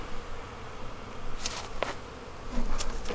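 Honey bees buzz around an open beehive, a steady close insect drone with a few louder passes as individual bees fly near, no talking.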